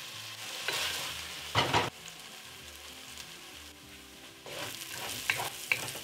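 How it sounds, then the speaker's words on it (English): Whole garlic cloves hit hot oil in a pot for a beef chuck pot roast with onions. The result is a soft sizzle punctuated by bursts of stirring and scraping, and there is no speech. "And then I'll add the whole garlic cloves."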